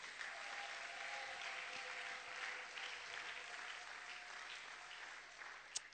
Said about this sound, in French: Acclamons pour le roi de rois.